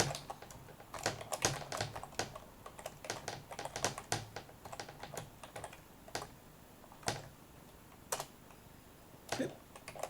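Commands typed on a computer keyboard: quick, close clattering keystrokes in uneven bursts with short pauses, soft but clear in a quiet room, with no voices.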